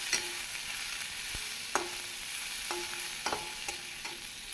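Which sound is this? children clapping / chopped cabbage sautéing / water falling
chopped cabbage sautéing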